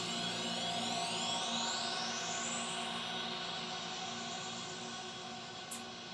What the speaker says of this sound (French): C'est un son d'effet fait avec le logiciel Serum.